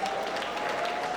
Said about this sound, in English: put your hands together for the convener of this show, Ushbebe.